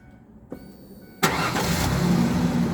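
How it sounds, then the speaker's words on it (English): A truck engine starts after a new fuel pump is installed: a click, a short starter crank, then the engine catches abruptly and settles into a loud, steady idle close by. "Then start the car."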